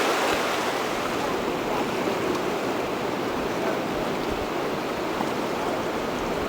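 Flat stretch of the Salmon River flowing, a steady broadband wash of moving water, close and fairly loud, with a faint rumble of wind or boat underneath and no voices.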